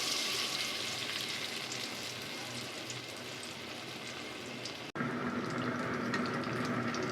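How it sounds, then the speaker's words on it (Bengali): Bean pakoras with a little cornflour dropped one by one into hot oil, giving a steady close hiss and bubbling sizzle that runs on evenly, breaks off for an instant, then resumes. "তেল গরম হয়ে গিয়েছে, একটা একটা করে ছেড়ে দেব।"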